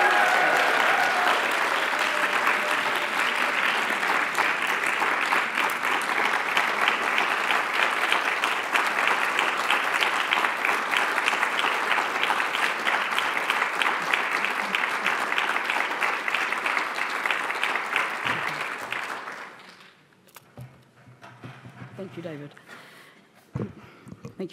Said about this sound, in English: let's give a roaring round of applause for Bridget Meyer for hosting this